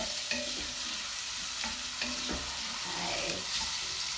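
Vegetables for an African cashew nut stew are stirred in a hot pot, with steady frying sizzle under repeated scraping, clinking strokes of a spoon, close and continuous.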